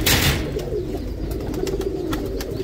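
Pigeons cooing softly amid the bustle of a bird market in Kadhimiya, Baghdad, low throaty calls over a murmur of background activity and occasional clatter.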